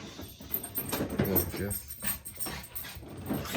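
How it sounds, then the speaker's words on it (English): A dog whimpers and gives short yips nearby, mixed with a person talking in a room, as the whines and small barks come in uneven bursts beneath and between the voice. "Somebody was showing me one of their dogs they were just talking to me about."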